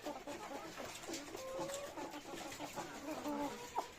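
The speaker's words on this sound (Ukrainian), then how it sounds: "Отдихають, бачите, сидять дві курочки." Lohmann Brown hens in a coop give soft clucks and short calls, moderately close, over low farmyard background noise with no talking.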